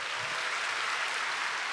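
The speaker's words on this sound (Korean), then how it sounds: "한번 큰 박수 부탁드리겠습니다" Brief burst of sustained audience clapping at a startup demo day fireside chat, steady and fairly loud throughout with no speech on top.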